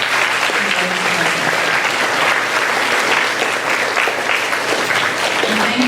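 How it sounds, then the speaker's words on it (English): Schoolchildren and guests at an elementary school student council installation ceremony applaud Mrs. Dutton, a dense, loud round of clapping that holds steady throughout, with faint voices mixed in. "so I want to give her a nice round of applause"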